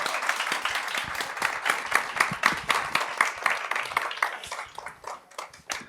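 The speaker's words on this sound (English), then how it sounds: "Ivana Miszkowicz, big round of applause." Lively audience applause at an agrifood summit for women, a close burst of distinct claps that stays strong and rhythmic before thinning slightly toward the end.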